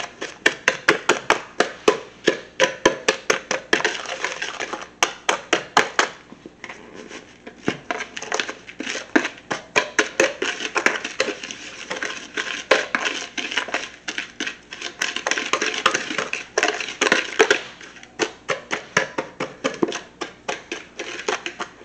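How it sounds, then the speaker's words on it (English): Rapid metal-on-bowl whisking of ingredients, a steady clattering rhythm of quick strokes close by, continuing with brief pauses and no talking. "I'm just going to give this a whisk to get everything incorporated."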